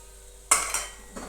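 A spoon scrapes and clinks against a pan while chopped coriander is mixed into poha, giving two sharp metallic taps followed by a softer stirring scrape.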